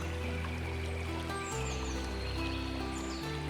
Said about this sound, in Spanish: El sonido del agua crea una música tranquila a tu alrededor.